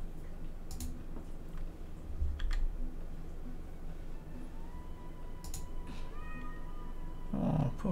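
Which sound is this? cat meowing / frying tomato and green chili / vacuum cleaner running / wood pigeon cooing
cat meowing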